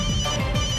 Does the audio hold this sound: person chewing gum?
no